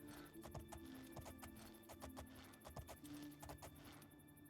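Rhythmic clip-clop of horse hooves at a steady trot in the video game Oblivion, close by, over a faint ambient background.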